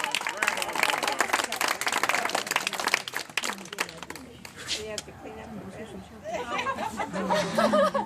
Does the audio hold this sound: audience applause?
yes